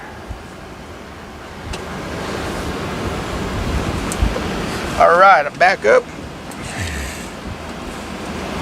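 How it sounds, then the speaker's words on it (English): An air conditioner in an accessible camper van drones loudly and continuously, a steady broadband roar with a person speaking briefly over it. "Sorry if you hear the air conditioner in the background."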